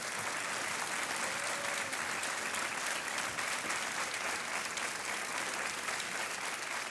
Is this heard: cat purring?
no